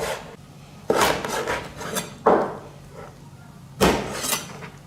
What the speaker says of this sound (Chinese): 把带鱼切成大小相同的段儿。